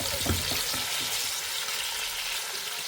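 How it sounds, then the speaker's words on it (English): Onions frying in hot oil toward caramelization, a steady close broadband sizzle with faint crackles and a few soft stirring knocks early on, no voices. "we are adding our onions into the oil and we are going to cook until we have that caramelized"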